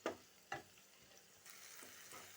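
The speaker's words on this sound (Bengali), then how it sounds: "2-3 মিনিট একটু ভেজে নিচ্ছি।" Capsicum and onion fry in a pan with a faint, soft sizzle, broken by a few sharp scrapes and clinks of stirring. No voices.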